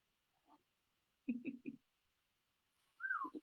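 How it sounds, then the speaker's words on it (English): Birds call from the forest around a village in Milne Bay, Papua New Guinea, giving a few short chirps and a brief descending whistle spaced across quiet moments, fairly faint and distant with no talk over them. "It's like it's meant to be for us to hear the birds behind you, Maleta."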